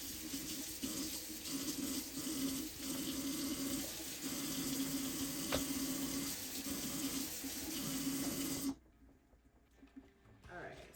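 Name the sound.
washing lamb chops under running tap water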